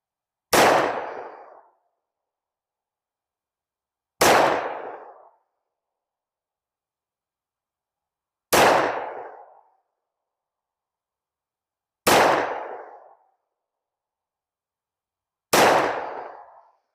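Five sharp pistol shots from a Smith & Wesson M&P 2.0 Metal in .40 S&W, fired at a target on a range, ring out loudly and close, evenly spaced about four seconds apart, each with a short decaying tail.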